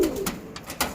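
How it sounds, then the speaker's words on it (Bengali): An Andhra Lal Shira pigeon pair coos in short, soft, low calls close by, with a few brief rustling sounds between them. "টপ কোয়ালিটির পায়রা, আন্ধ্রা লাল শিরা জোড়া"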